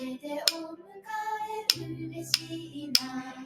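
Rhythm sticks clicking in a children's play-along lesson, four crisp separate clicks spaced about a second apart over soft sustained music.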